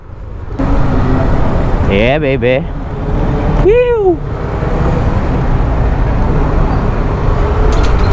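Congested road traffic forms a loud, steady roar of engines and tyres all around, with a man's brief exclamations over the constant rumble.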